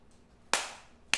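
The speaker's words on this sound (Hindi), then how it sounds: "ताली बजाकर?" Two sharp hand claps about half a second apart, each a crisp, loud crack that rings off briefly in a quiet room.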